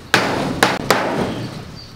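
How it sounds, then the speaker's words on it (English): A hammer taps a piece of wood down onto screws while an egg-mobile chicken coop is being built. Three sharp, close knocks come at uneven intervals, each with a short ringing decay, and no one speaks. "Little hammer action to snug it up on my screws."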